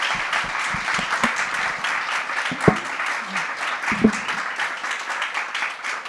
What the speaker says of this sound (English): give a warm round of applause for Nanjira and her keynote